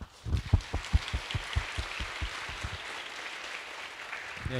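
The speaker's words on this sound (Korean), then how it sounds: "우리 다시 한번 우리 뜨겁게 박수해 주시고" Audience clapping at a Christian CCM concert starts out in loud, fairly rhythmic beats, then thins into scattered, softer claps as the applause fades.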